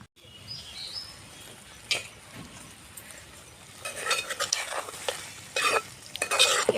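Curry with chili powder stirred as it fries in a pan, a soft sizzle that turns into busier scraping and clinking of a spoon against the pan toward the end.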